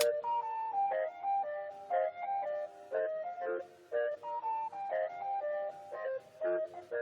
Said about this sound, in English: You will sing again, Mr. Ice Cream Truck.